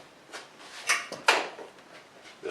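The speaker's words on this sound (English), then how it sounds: "And we'll see if that's a problem when we go to shut this door." A Jeep JK door being pushed shut after bushing inserts were fitted, heard as a few close, muffled thuds and latch clunks in quick succession, the strongest impact near the middle.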